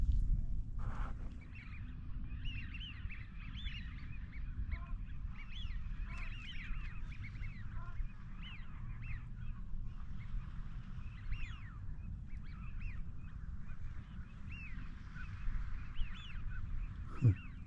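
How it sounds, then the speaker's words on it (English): Many waterbirds honk and call continuously across open wetland on the Studland Peninsula in England, a busy chorus of goose-like and duck-like cries over low rumbling ambience. "Lovely sounds of wetland birds."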